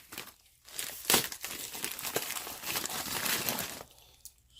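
A package holding an X140 Pro helicopter by Helifar is torn open, giving close crinkling and rustling of plastic packaging in irregular bursts, with a brief quiet start and a softer tail.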